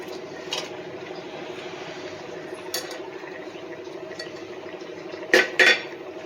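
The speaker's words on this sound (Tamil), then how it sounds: "இப்போ நம்ம வறுத்து வச்சிருக்கிற பன்னீரை இதில் சேர்த்துக்கலாம்." Fried paneer mixed into pulao in a pot: a quiet steady background hum broken by a few metal clinks of a spoon against the pot, with a sharper double clatter near the end, close by and without speech.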